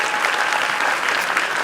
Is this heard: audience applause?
yes